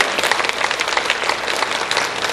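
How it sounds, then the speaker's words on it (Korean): Church congregation applauding during a worship service, giving a round of praise to the Lord: dense, steady clapping from many hands filling the room, close and loud throughout. "그러니까 주신 주님께 영광의 박수 한번 돌려드립니다."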